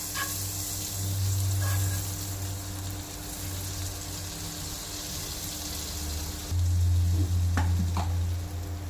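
Butter melts in a hot pan with a steady close sizzle and a faint crackle. A few light clicks from a spoon or utensil cut through the frying hiss.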